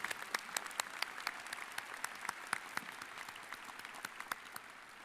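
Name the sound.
applause at a graduation commencement ceremony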